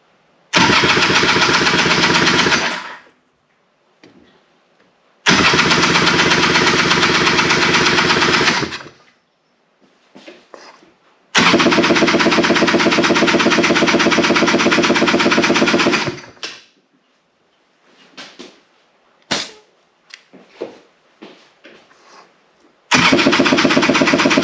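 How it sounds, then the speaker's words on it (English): A Honda Odyssey FL350R engine is cranked during a compression test: four loud, rapid mechanical bursts of several seconds each, separated by quiet gaps with faint handling noises. "we're just going to give it a few cranks and see what we get"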